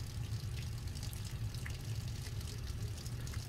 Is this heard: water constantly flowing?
yes